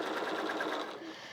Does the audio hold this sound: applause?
no